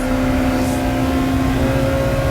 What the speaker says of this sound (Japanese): デグナーカーブの手前から減速です。 3速にシフトダウンです。